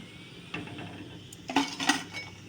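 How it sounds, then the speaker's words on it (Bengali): Crisp fried vegetable chops lifted out of hot oil, giving a few light scraping and clinking knocks against the pan and utensil, close and fairly quiet, with a faint sizzle underneath. "আওয়াজটা তোমরা বুঝতেই পারছ কতটা মুচমুচে হয়েছে"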